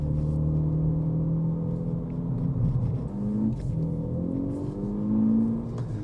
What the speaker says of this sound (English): you can also hear that the exhaust has got a little bit more of a note to it